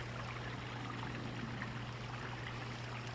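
Winter pond water bubbling from an aerator bubbler, a steady faint trickling wash with a low hum underneath, unbroken and alone.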